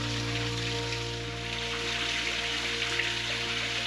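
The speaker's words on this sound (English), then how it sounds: "A very short deviation from the main track to this stunning little waterfall grotto." A small waterfall runs after overnight rain beneath a natural rock bridge in a grotto near Burralow Creek, Kurrajong Heights, making a steady, even rush of falling water that holds constant throughout, with no voices.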